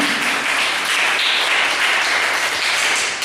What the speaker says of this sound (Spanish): Denle una ofrenda de palmas a nuestro Señor Jesucristo, pues